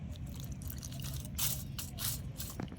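Soft dripping and splashing of a little water poured into masala over a low steady background, with gentle wet squishes and brief brighter splashes.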